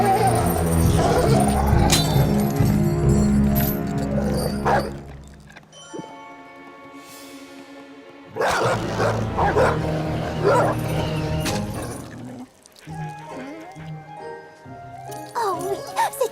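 A cartoon two-headed dog barks several times in lively bursts, mixed with music and French voices, with a quieter stretch in the middle before the barking picks up again.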